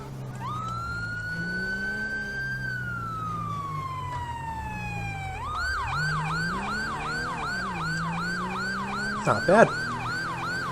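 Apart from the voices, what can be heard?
police car siren in video game GTA V with LSPDFR mod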